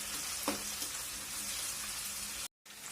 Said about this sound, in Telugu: ఇప్పుడు జింజర్ గార్లిక్ పేస్ట్ కూడా కొద్దిగా పచ్చి వాసన పోయేంత వరకు ఫ్రై చేయండి.